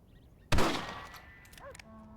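A single sharp rifle gunshot in the western video game Red Dead Redemption, a loud close crack with a short ringing tail, followed by faint metallic clinks.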